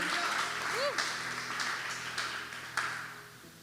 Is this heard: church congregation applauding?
yes